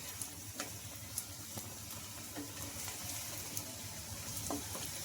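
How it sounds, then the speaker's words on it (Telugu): Leftover rice snack pieces fry in hot oil as they are turned over, giving a steady, close sizzle with small crackles and scraping stirs throughout. "ఇంకా అటు ఇటు తిప్పుకుంటూ వీటిని కూడా క్రిస్పీగా అయ్యే వరకు అయితే ఫ్రై చేసుకోవాలి"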